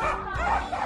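A neighbour's dogs bark and yip in one short burst with a whimpering edge, fairly close, beside a villa where scaffolding is going up.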